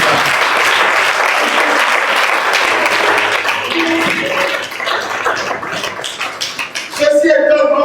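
A church congregation applauding, dense loud clapping that swells and continues, thinning toward the end as voices rise over it.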